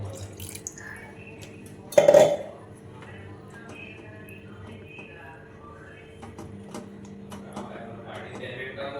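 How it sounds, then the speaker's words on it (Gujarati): Water is poured into a pan of Punjabi vegetable curry in a home kitchen: a short, loud splash near the start, then quiet simmering while a person talks. "થોડું પાણી નાખીશું ગાઈસ આપણે"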